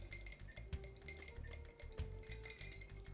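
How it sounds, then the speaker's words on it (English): A bar spoon stirs ice in a cocktail glass of Toco Cachaça, giving steady close clinks and rattles of ice against glass in a quick, even rhythm with no talking. "Then we take our bar spoon and we mix it really well."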